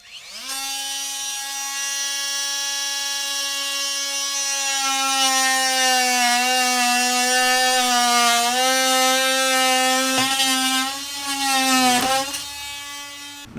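An oscillating multi-tool cuts into a rotted exterior door jamb, a loud steady buzzing whine that holds for about ten seconds, briefly dips and wavers near the end, then stops.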